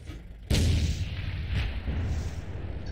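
A single loud blind shot in a video game, a sharp boom followed by a rumbling, booming decay with a second swell, like artillery fire, heard alone with no talking.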